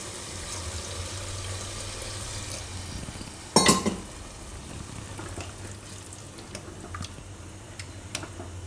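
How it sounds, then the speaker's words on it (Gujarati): Water goes into a pot of simmering sprouted chickpea and fenugreek curry with a brief, sharp splash midway, followed by a soft, steady sizzle and bubbling with faint clinks of the pot. "તો આમાં આપણે હવે થોડુંક પાણી નાખીશું."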